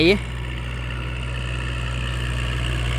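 A steady low diesel engine drones throughout, a Kubota L5018 tractor ploughing furrows at a constant pitch with no pauses, close and fairly loud.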